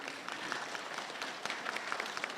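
The audience at a SACCO society special general meeting gives a continuous round of applause, many hands clapping at an even level throughout with no speech over it.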